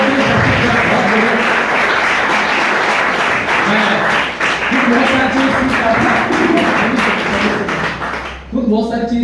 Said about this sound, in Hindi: एक बार जोरदार तालियां जोरदार